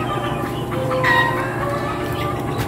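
Chickens and week-old chicks on a farm near incubators cluck and cheep in overlapping calls, with a rooster-like crow swelling in the middle over a steady low background hum.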